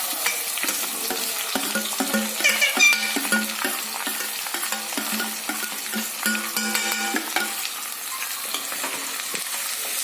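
Sliced onions drop into hot oil with chillies and are stirred in a pan, giving a steady close sizzle with clinking and scraping strokes in the middle and no talking.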